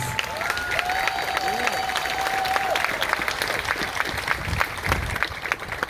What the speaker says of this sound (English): I just want to have everybody give all these young people a round of applause, please